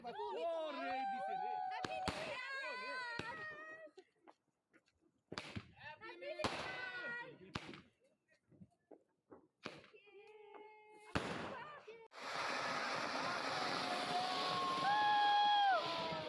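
Firecrackers bursting outdoors at a New Year's Eve celebration, a few sharp loud bangs scattered among voices talking and calling out, ending in a dense burst of crackling noise.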